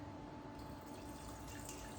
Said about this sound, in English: We'll pour in the water